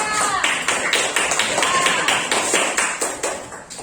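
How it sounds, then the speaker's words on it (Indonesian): A small group claps together in a quick, fairly loud patter, with a voice briefly audible over the clapping. "Oke, tepuk tangan dulu untuk kita semuanya."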